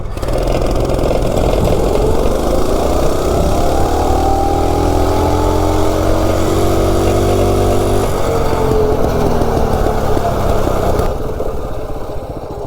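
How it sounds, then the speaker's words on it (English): A minibike with a stock 196 engine, governor bypassed, Tillotson 212 carb and airbox, revs hard and climbs steadily in pitch through the gears, loud and close, easing off near the end. "Stock 196 with the governor bypassed, a Tillotson 212 airbox, and a Tillotson 212 carb."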